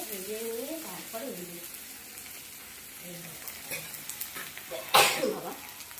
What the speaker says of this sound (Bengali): এইবারে পেঁয়াজ দিয়েছি, টমেটো দিয়েছি, কাঁচা লঙ্কা দিয়েছি, আদা বাটা দিয়েছি, দিয়ে ভালো করে ভেজে নেবো